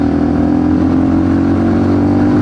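A motorcycle engine drones steadily under load, close and loud, as the rider holds speed while working up through the gears, with no voices.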